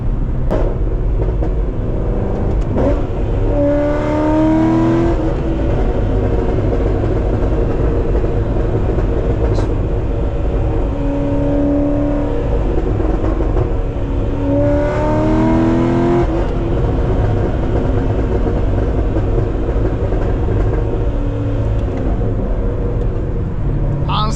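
A built Corvette driving through snow, its loud engine revving continuously throughout, with rising and falling rev sweeps around the middle and again later, heard alone without talk.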